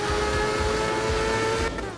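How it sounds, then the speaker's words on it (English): A Mazda RX-3 with a high-revving rotary engine in Art of Rally screams loud and steady at high revs, holding its pitch before easing off at the end. "you can't beat the sound of that high-revving rotary engine"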